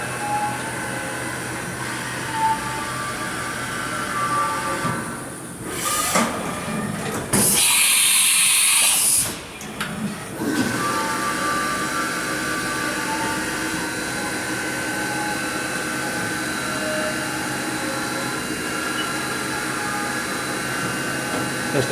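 A Haas VF-3 Vector Drive CNC vertical machining center cuts at a 3000 rpm spindle speed, giving a steady mechanical whir and hiss. A loud, high burst of spray or air lasts a couple of seconds in the middle before the steady cutting noise resumes.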